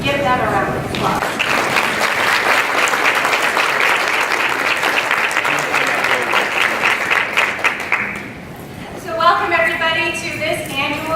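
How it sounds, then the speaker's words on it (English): A school choir receives sustained, dense audience applause at a State of the Schools address in North Ridgeville, filling most of the clip before easing off, after which a voice briefly speaks. "If we could give them a round of applause."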